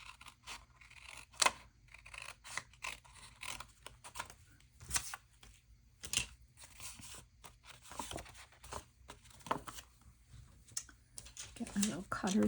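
Paper being snipped and trimmed with scissors and a small cutter, irregular crisp cuts and rustling handling close by, while a person talks quietly at times.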